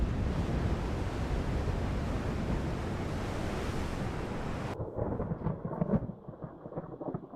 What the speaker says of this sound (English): that thunder sounds amazing